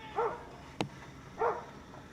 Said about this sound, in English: The dog looks like a Cane Corso.